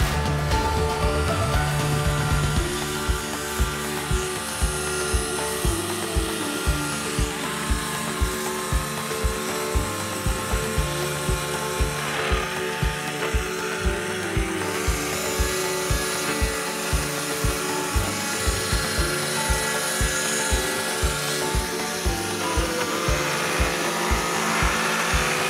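Paint spraying machine at work on terrace chairs, a loud steady motor drone with a regular ticking pulse running throughout.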